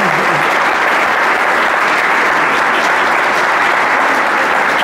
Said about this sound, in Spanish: Un aplauso para la señora.